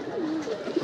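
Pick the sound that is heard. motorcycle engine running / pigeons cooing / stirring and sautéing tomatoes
pigeons cooing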